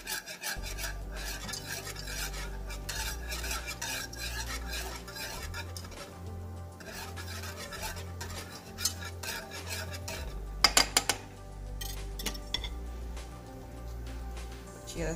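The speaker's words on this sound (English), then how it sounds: "be sure to whisk it every now and then" Vegan condensed milk simmers in a pot while a whisk works through it, giving steady, close scraping and swishing strokes over a low background hum, with no voices.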